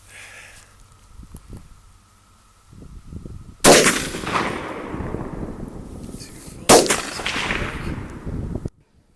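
Two loud, sharp Savage Axis rifle shots fired at a 100-yard range, each a sudden crack followed by a decaying echo, spaced about three seconds apart, with faint handling noise before the first.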